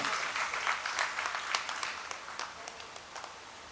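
An audience at a poetry gathering in Bhiwani's cultural hall applauds the poet Dr. Ramakant: a fairly soft, scattered round of clapping from a crowd, with distinct claps standing out before it gradually tapers off.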